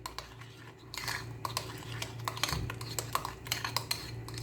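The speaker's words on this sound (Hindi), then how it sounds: "अच्छे तरीके से मैं इसको मिक्स कर लेती हूँ इसमें" Bread and cream batter being mixed in a bowl while making instant bread ras malai, with repeated close clinks and scrapes of a utensil against the dish in an irregular rhythm.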